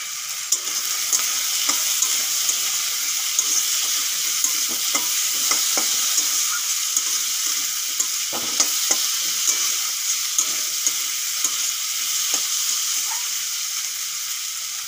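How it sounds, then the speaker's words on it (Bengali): Potato pieces sizzle steadily in a hot pan with turmeric and salt, a continuous dense frying hiss with occasional stirring clicks, close and loud with no voices. "আলুগুলো 5 মিনিট ধরে ভেজে নিয়েছি।"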